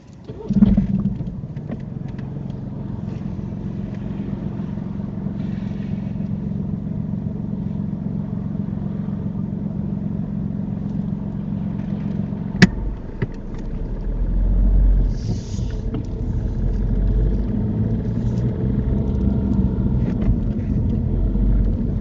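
A car moves off during a mock UK driving test, with a steady low engine hum from inside the cabin, a sharp click partway through, then a louder rumble as it pulls away and gathers speed.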